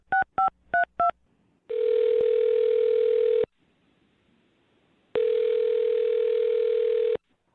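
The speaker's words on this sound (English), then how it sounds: "I'm dialing her phone number right now." A telephone is dialed: four quick touch-tone beeps sound first, then two long steady tones separated by a pause, all clear and close with nothing else audible.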